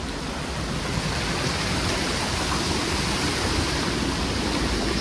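Ocean surf roars along the coastline as one dense, unbroken hiss of crashing water, loud and steady throughout with no voices over it.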